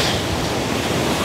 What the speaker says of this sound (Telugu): అలలు చాలా పెద్ద పెద్దగా వస్తున్నాయి.